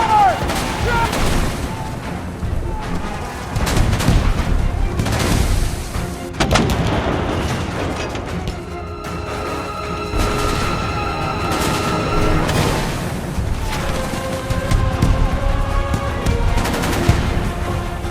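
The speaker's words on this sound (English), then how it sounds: "Ready, fire! Forward! Shoot!" Civil War battle at Shiloh recreated with dense volleys of rifle and artillery fire, booming and crackling in irregular bursts over a rumbling din, with shouted commands and voices in the mix.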